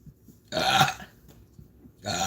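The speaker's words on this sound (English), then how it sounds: "Confirmation belch." A single long, loud belch rumbles close to the mic for about half a second, followed by a second belch starting at the end, with near silence between.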